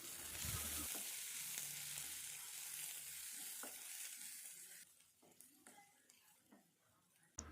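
Steady sizzling of chopped onions sautéing in hot oil, with occasional scraping stirs; the hiss fades slightly toward the end.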